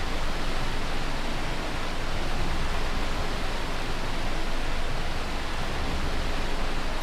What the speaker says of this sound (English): This waterfall's so loud.